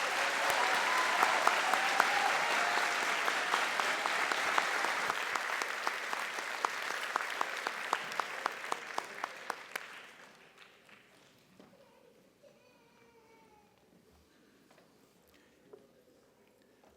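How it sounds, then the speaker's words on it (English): Audience applause at a senior banquet for a graduating class of 2023 at Missouri Military Academy: dense, loud clapping across a room that fades out after about ten seconds, leaving faint background murmur and stray noises. "please give a round of applause for the class of 2023"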